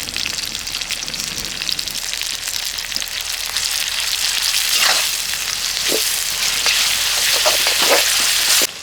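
Curry leaves and ginger-garlic paste fry hard in hot oil for a Telugu korameenu fish curry, a loud, steady sizzle with crackling spits that grows denser toward the end, no talking.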